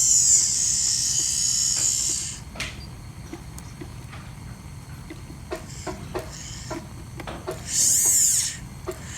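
A dental handpiece fitted with a tapered burr whines in a high, thin drilling tone, first at the start, then briefly again near the end, with quiet tapping and scraping in between.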